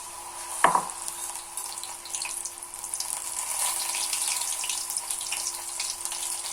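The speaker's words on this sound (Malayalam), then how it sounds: "ഇതെല്ലാം ഇങ്ങനെ കുറേശ്ശെ മുക്കി ഇടണം. എല്ലാം നമുക്ക് എണ്ണയ്ക്കകത്തേക്ക് ഇടാം." Banana flower pieces dipped in maida batter hiss and crackle as they fry in hot oil, a steady close-up sizzle running throughout after a brief sharp clatter near the start.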